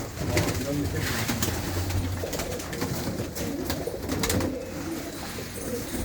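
Top-class pigeons kept by Aman in England coo in low, repeated, throaty phrases, several birds close by with a continuous soft rustle of activity behind them.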